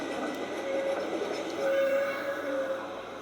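Busy ambience inside the train station in Basel, Switzerland, with a steady wash of crowd and rail noise and a few sustained whistle-like tones drifting through in the middle distance.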